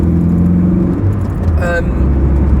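A 1987 Toyota MR2 AW11 drives at ordinary speed, its engine a steady low drone heard from inside the car, with a brief higher tonal burst in the middle.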